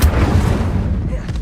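Incendio fire spell cast in Hogwarts Legacy, a dense roaring, booming whoosh that is loud and sustained throughout, trailing off at the close amid hectic combat noise.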